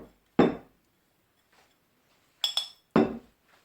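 Spoon clinking against a baking dish while crumble topping is stirred together with oats for a rhubarb and stem ginger crumble, a few sharp separate knocks with quiet pauses between them.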